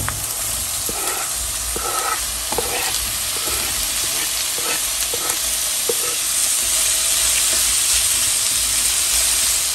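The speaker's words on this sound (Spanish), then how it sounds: "Vamos a dejar que se frían un poco" Sausages and onion slices fry in a pan with a steady sizzling hiss throughout, broken by occasional soft clicks and stirring scrapes, close and continuous with no voices.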